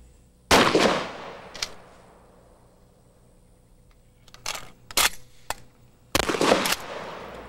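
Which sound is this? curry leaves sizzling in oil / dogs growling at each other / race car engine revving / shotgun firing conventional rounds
shotgun firing conventional rounds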